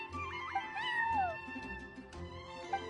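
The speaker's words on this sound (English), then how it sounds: "I'm sorry, that's my neighbor's cat." A neighbor's cat in Genshin Impact meows with a drawn-out, rising-and-falling call near the middle, close and clear over quiet ambient game sound, followed by softer ambience.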